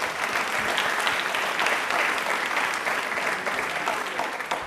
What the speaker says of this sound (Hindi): प्लीज एक बार तालियां जोरदार।